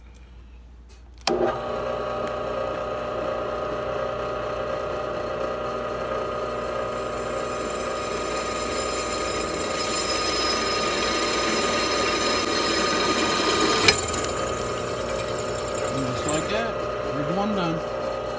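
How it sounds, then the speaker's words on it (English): A used benchtop drill press with a clamped workpiece and oil added starts up and runs with a steady motor whine and grinding bite as the bit cuts, continuous and close, with a brief clank near the end. "So we got it clamped into the drill press here."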